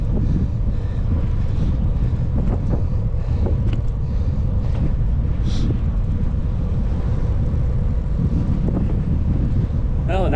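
Crosswind buffets a microphone while cycling south toward Iowa on an open rural road during a RAGBRAI ride, a dense, continuous rumble with scattered gusty bursts.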